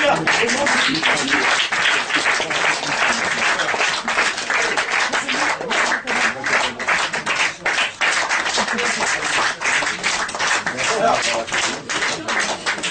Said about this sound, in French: on va pouvoir les applaudir